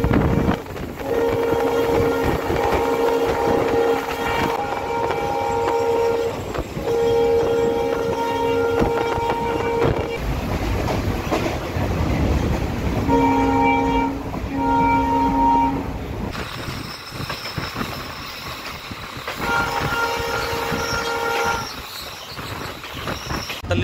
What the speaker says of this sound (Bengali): ট্রেন এখন ঢুকছে মুরকংসলিক রেলওয়ে স্টেশনে